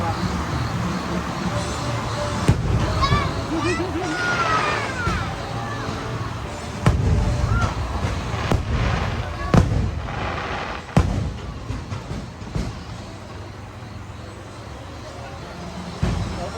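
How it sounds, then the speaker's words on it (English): Fireworks for the Happily Ever After show at Magic Kingdom, watched from a ride train behind the castle, booming and crackling in repeated sharp bursts, some close and loud, over a constant crowd murmur with people talking. "we're getting two sides of fireworks"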